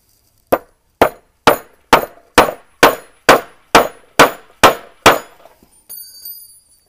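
A hammer striking sandboard parts in a DIY build, a close run of about eleven sharp, ringing metallic blows at a steady pace, followed by faint clatter and a short high tone.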